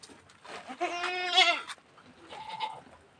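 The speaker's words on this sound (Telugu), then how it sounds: "మేకలు చూడండి ఎంత బాగా ముద్దుగా ఉన్నాయి." Goats at a tribal village bleat nearby, one long wavering loud bleat followed by a shorter, fainter one, with quiet background murmur between calls.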